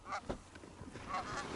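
Geese honk in short, faint calls from a passing flock during an early-season goose hunt in North Dakota, a few scattered honks heard at a distance.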